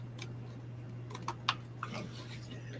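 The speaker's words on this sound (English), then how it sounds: "So you can type, but it doesn't make a lot of noise." A few soft, sparse key clicks from a quiet low-profile keyboard with flush keys, faint and scattered over a steady low hum.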